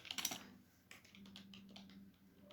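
Typing on a computer keyboard during a basic Windows 10 lesson, with a soft cluster of clicks at first and then quieter scattered keystrokes over a faint steady hum.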